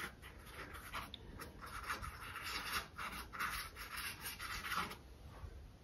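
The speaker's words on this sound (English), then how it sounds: "kind of scrub gently with my brush and scumble out" A paintbrush scrubs gently over acrylic paint, scumbling a blurry lilac background. It makes a soft, faint, steady rubbing and scratching texture with small rhythmic strokes.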